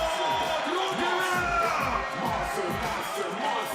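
A packed stadium crowd roars and cheers at a 2019 European beach volleyball finals match, with a commentator talking over the noise.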